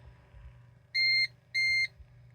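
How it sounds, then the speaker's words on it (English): A UPS battery backup, running on battery power, gives two loud, identical electronic warning beeps in quick succession over a faint low hum, each a steady tone lasting about a third of a second. "it will beep at you, you know, it's going to let you know that it is on battery power"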